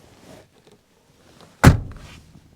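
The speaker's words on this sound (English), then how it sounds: "the entire car resonates with the sound of the tinniness of that door closing" A single sharp, tinny thunk of a Proton Saga Iswara 1.3's rear door shutting, followed by a short rattling resonance through the car, after near silence with faint shuffling.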